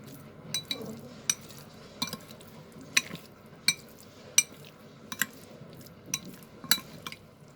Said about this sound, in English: And now I will mix it again.